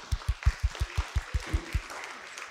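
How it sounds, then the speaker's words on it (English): Small group in a church service clapping for a young child, about ten evenly spaced claps, fairly close and light, fading out after a couple of seconds. "Let's give you a clap."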